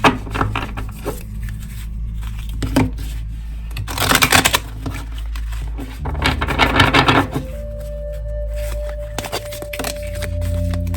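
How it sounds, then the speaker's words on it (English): A deck of oracle cards being shuffled by hand, bursts of papery riffling and rubbing in short clusters, close and fairly loud, with quieter gaps and a faint tone toward the end. "I've shuffled these, but I'll shuffle them one more time."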